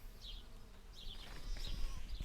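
Bees on a farm buzz in short passes near the microphone, thin whining drones coming and going over a low rumble of wind before a storm, fairly faint overall.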